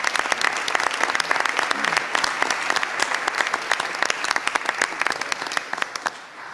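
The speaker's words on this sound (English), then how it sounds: "let's give a round of applause to Chancellor Blank and her staff" A room of attendees at a Regents meeting claps for Chancellor Blank and her staff. Crisp individual claps stand out over a steady wash of applause that holds for several seconds and tapers off at the end.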